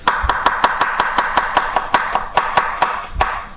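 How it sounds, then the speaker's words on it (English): A knife chops through iceberg lettuce on a board in about a dozen crisp, evenly spaced strokes. The cuts sound close and clear, with no voices. "let's just shred a little bit of lettuce to put in our basket"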